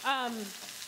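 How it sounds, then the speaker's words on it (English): Onions drop into a hot skillet with a brief tonal squeal, then a soft, steady sizzle of frying close by. "I got the skillet hot. It's waiting for me. Onions go in."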